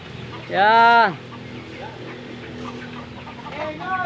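A loud rooster-like squawk rings out briefly near the start, followed by quieter clucking and soft chicken noises in the background on a farm with chickens and goats in Ibaan, Batangas.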